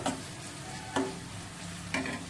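Onions fry in a pan for a Telugu-style prawn fry, a steady close sizzle broken by three sharp scrapes of stirring spaced about a second apart, with no talking.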